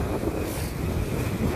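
Strong sea wind buffeting the microphone while fishing from the shore on a cold, choppy day, a loud continuous roar mixed with wave wash and no voices.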